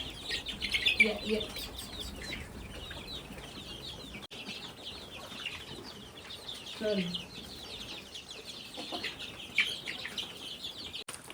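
Hens cluck and chirp softly, a scattered flock of small calls mixed with faint outdoor noise and a little background talk.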